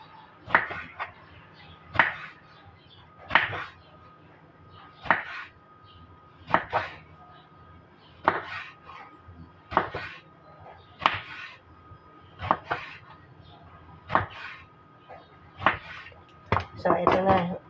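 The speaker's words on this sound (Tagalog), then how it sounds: "unahin natin hiwain tong talong" A knife slicing through eggplant on a cutting board, sharp regular thuds about every one to two seconds, close and distinct, with quiet background noise between cuts.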